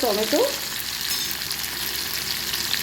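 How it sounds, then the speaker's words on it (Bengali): Chopped onions sizzle and hiss steadily while being stirred in a small wok, a continuous close frying sound with a brief squeak at the start. "একটু পেঁয়াজটা নাড়াচাড়া করে নিচ্ছি।"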